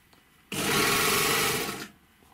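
An overlock sewing machine stitches through thick denim in a single steady burst of about a second and a half, a loud rapid mechanical whirring and knocking that starts and stops abruptly.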